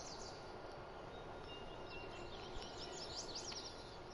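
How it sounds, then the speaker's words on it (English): Faint birdsong on a farm early on a sunny morning, scattered high chirps and tweets drifting over a steady low background rumble, distant and quiet with no one talking. "Birds are chirping."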